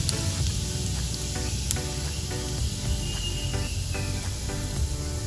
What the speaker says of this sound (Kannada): ನೋಡಿ, 2 ಸ್ಪೂನ್ ಎಣ್ಣೆ ಹಾಕಿದ್ದೀನಿ ಪ್ಯಾನಲ್ಲಿ. 1 ಸ್ಪೂನ್ ಜೀರಿಗೆ ಹಾಕ್ತೀನಿ.